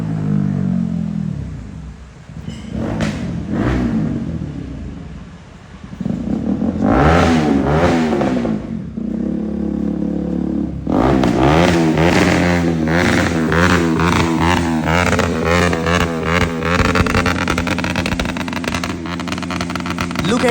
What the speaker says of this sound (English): You can hear the noise, like the exhaust sound from so far.